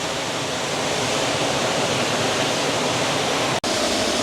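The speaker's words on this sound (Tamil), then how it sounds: "இந்த கதவுக்கு மேலாலேலாம் தண்ணி வந்து ஊட்டுப்படுது பாருங்க" Water from Muthaiyankattu village tank pours over a sluice gate at night in a steady, loud, unbroken roar that fills the whole stretch, with one momentary dropout near the end and no voices.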